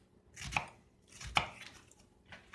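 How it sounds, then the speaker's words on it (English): A paring knife minces food on a cutting board in two sharp chops, with a fainter third cut near the end and quiet gaps in between. "I take my knife, cut it sideways, and then again, very small, thin cuts."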